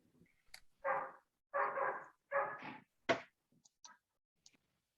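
A dog barks in a few short, close bursts during the exchange of peace greetings at a Día de los Muertos service, with faint clicks and quiet rustling between the barks.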